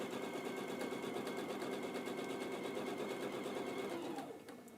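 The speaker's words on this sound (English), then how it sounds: "And I have to talk really loud over the sewing machine, Deborah will tell me." A sewing machine runs steadily and close by, a fast even mechanical rattle that holds for about four seconds and then slows and stops.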